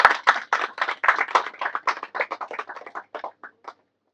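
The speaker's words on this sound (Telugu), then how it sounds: "ఆయన గట్టిగా చప్పట్లతో అభినందన తెలియజేస్తారు" Congratulatory clapping: a quick run of about twenty sharp, close hand claps, loud at first, then slowing and fading out, with no voices.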